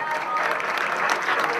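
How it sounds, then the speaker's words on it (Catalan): A crowd at a football match ceremony between F.C. Benavent and U.E. Tàrrega claps in a brief, steady wash of applause. A faint voice carries underneath. "Un aplaudiment, sisplau."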